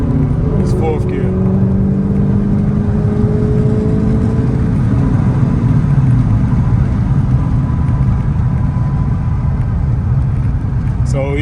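Manual Dodge Challenger pulling in fourth gear, a steady low engine drone and road rumble heard from inside the car with a rising whine early on, while a person talks over it.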